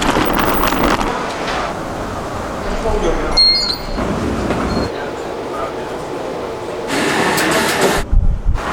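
Metro train near National Airport rumbling and clattering along the rails with a steady rolling roar, a brief high squeal midway, and louder surges toward the end.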